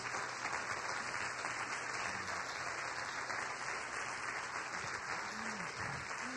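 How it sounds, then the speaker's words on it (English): Steady, sustained applause from a crowd, dense and continuous throughout with no breaks. "Give the Lord a hand clap praise."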